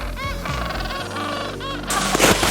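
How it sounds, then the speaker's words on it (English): Penguins calling in Antarctica, a cluster of nasal, honking chirps close by in quick succession, ending in a burst of rough windy noise. "I just love the chirping penguins in the background."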